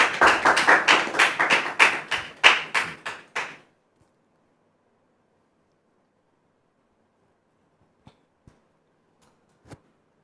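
Audience applause welcoming a guest on a stage, a short burst of clapping that fades out after a few seconds, followed by silence and a few faint taps.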